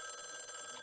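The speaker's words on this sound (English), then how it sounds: "And the phone rings." A telephone bell rings, a bright, steady trill that fills the short moment on its own with no voices.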